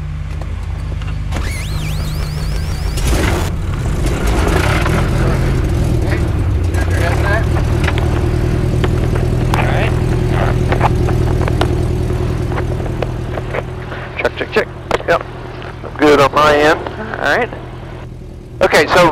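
A Cub Crafters X-Cub airplane engine cranks and fires, settling into a steady droning idle close by, with people talking over it and clicks and bursts of radio-like noise near the end.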